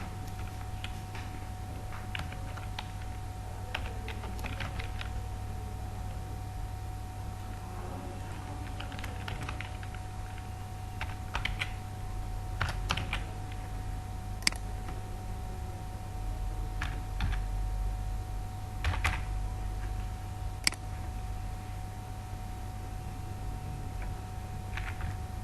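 Someone types on a computer keyboard, with scattered soft key clicks and occasional sharper taps over a steady low hum, fairly faint and close, with no speech.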